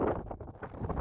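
Gusty outdoor wind buffets the microphone during gas-shielded welding on a homemade flatbed for a 2007 Ford F-150, a brief burst of low rumbling, uneven thumps.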